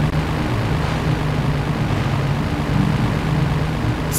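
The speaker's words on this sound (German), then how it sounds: "Okay, das Flugzeug ist jetzt in Reichweite." A propeller airplane in the video game GTA 3 on PS4 drones steadily and loudly throughout, with a constant low engine hum and no breaks.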